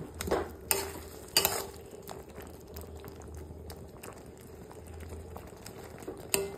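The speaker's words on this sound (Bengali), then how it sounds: "এটাকে এখন ভালো করে নেড়ে চেড়ে দেব, তারপরে অন্তত আরো 10 মিনিট সেদ্ধ করে নেব" Tomato chutney with salt and turmeric simmers in a pan while being stirred: a soft, continuous bubbling hiss with a few sharp spoon clinks against the pot, and no one speaking.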